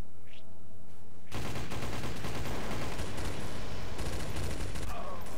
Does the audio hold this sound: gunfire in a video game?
yes